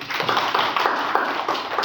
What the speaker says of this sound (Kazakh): Ал шапалақ қоямыз.